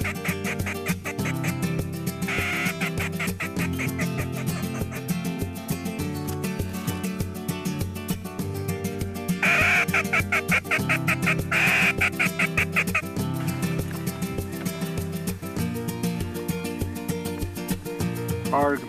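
Repeated live duck quacks during a duck hunt, some loud and close, over a busy layered background with occasional voices talking.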